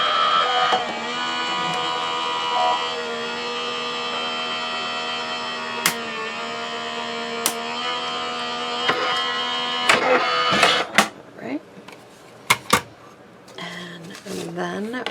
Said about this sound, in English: And run it through your die cutting machine.